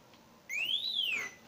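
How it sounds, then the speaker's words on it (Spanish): A homemade Arduino keypad password alarm sounds after a wrong code: a single piercing electronic tone that sweeps up and then back down for under a second, close and clear against a quiet room. "se prendió esto y sonó la alarma que nosotros hemos hecho"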